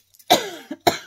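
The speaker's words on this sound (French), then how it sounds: "Ah, bah ça y est, je vais tousser." Two sharp coughs, close and fairly loud, from an adult woman, separated by a short breath, with a faint throat sound before them and no talking.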